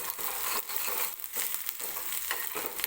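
Chopped onion frying in a tempering of oil for rava appe, a dense continuous sizzle and crackle with the occasional scrape of stirring, close and fairly loud with no voices.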